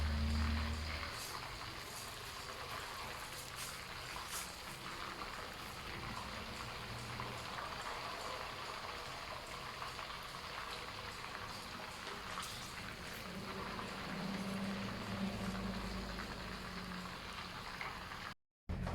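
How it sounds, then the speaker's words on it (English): Pork thigh sizzles and spatters steadily in oil in a deep, cauldron-like pan, a dense crackling hiss that runs unbroken at moderate level with no talking, then cuts off briefly near the end. "So there, we're done frying the pork."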